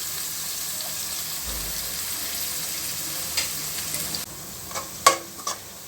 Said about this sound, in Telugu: అందులోనే కొంచెము కరేపాకు వేసుకున్నాము ఇట్లా అన్నిటినీ కాసేపు మనము పచ్చివాసన పోయేంత వరకు వేయించుకోవాలి